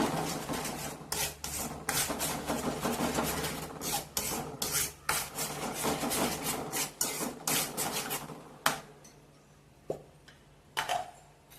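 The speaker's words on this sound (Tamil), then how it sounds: "சேர்த்து நல்லா மிக்ஸ் பண்ணி விடுங்க, நல்லா கிண்டி விடுங்க." Mango custard mixture is stirred briskly in a pan, making repeated scraping, rasping strokes at a fast irregular rhythm, close and fairly loud, slowing to a few isolated scrapes near the end.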